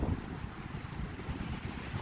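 Wind gusts steadily around a well-secured tent pitched along the Southern Upland Way, a continuous low buffeting rush with rumbling microphone noise.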